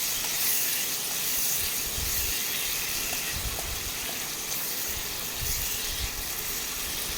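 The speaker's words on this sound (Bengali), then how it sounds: "এবার ভালো করে কষিয়ে নেব।" Shrimp stir-frying with ginger-garlic paste and spices in a pan, a steady sizzling hiss that holds evenly throughout, close and alone with no talk.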